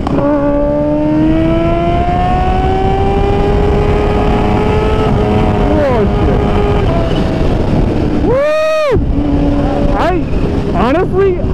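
A modded Kawasaki H2 motorcycle engine revs hard on the road, a loud rising and falling whine that climbs to the limiter, with wind noise throughout.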